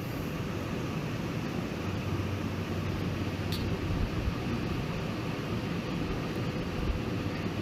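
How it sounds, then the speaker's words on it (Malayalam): Egg white is beaten in a bowl for a homemade hair pack, giving a steady, continuous mechanical whirring drone throughout with no talking. "നമുക്കതൊന്ന് ബീറ്റ് ചെയ്തെടുക്കാം."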